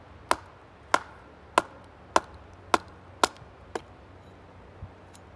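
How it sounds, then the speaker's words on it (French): Seven sharp axe chops into wood, carving a bushcraft mallet, land at a steady pace, each a crisp thud with a short ring, followed by a softer knock near the end. "on va essayer d'enlever des parties de bois avec la hache"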